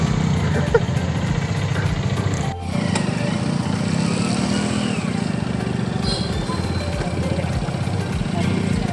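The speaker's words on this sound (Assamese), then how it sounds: "এতিয়া বাইকত যাম" A motorcycle engine hums steadily and close while riding at night in cold, foggy weather in Delhi, with an even mid-pitched drone and wind rush lasting throughout, and a voice talking over it.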